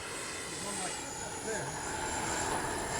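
A radio-controlled L-39 model jet makes a slow, low pass with its flaps down, its turbine giving a steady, fairly distant whine and rush that holds level the whole time.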